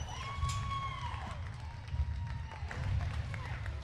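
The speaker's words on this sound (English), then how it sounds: "Let's give them a nice round of applause all the way through." An audience claps for hog showmanship classes at a livestock show, steady applause running throughout under a hum, with a voice briefly speaking over the crowd.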